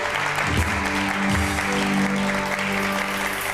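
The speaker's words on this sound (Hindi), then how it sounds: "साइम इधर आओ, तालियां बजाएं इनके लिए।" Audience applause for a crew member's recent wedding on a set with a large crane, a steady dense clapping wash with some low hum underneath, lasting throughout.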